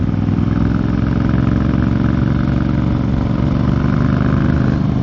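A 2018 Triumph Speedmaster motorcycle cruising in fifth gear at about 40 mph, a loud, steady low engine drone with constant rumble and wind, uninterrupted and without talk.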